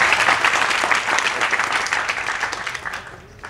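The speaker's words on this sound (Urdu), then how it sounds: "چلو پھر تالیاں بجا کے بتاؤ ذرا سے" Trainees at an offset printing colour management workshop clap together in a loud, close burst of applause that holds steady, then tapers off slightly toward the end.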